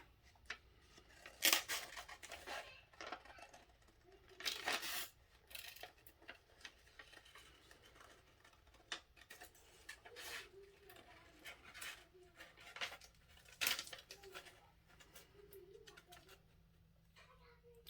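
Scissors cut out a paper printable: soft, irregular snips and paper rustles continue throughout, with a few sharper cuts standing out, while a person talks quietly at intervals.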